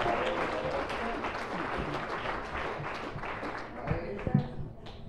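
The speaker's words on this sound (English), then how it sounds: "give God a great big hand clap of praise" A church congregation gives a burst of applause in praise, dense sustained clapping from many hands that thins out toward the end, with some voices mixed in.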